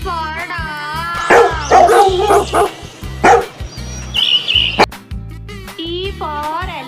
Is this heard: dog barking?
yes